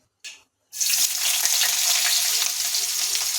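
Chopped large onion drops into hot oil with cumin and mustard seeds in a kadai: a brief spatter, a short pause, then a loud, continuous close sizzle that holds steady to the end.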